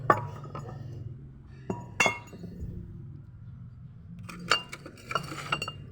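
Old, moss-covered glass bottles clink against one another as they are handled, producing scattered sharp chinks and knocks, some louder and some soft, over a quiet background.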